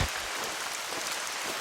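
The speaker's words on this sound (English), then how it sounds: "It starts raining as we enter here." Rain falling in the hunting game theHunter: Call of the Wild, a dense, even hiss of rainfall on surfaces that runs steadily throughout with no speech.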